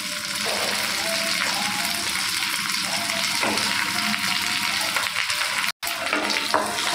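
Ground chana dal frying in hot oil gives a steady, dense sizzle that runs the whole time without talk, broken by one very brief dropout near the end.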